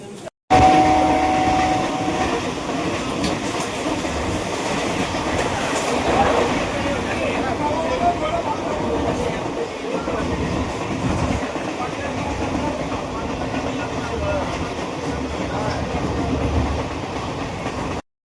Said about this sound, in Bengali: এটা হলো মেমারি স্টেশন, আর একটা দাঁড়িয়ে আছে ট্রেন,